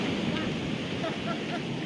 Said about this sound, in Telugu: వాటర్ వచ్చి జమ రాళ్ళలో గుద్దేసుకుంటుంది